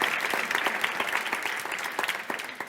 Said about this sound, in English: So a big round of applause, please, for them.